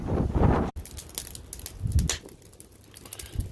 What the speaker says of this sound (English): it's a bit breezy out here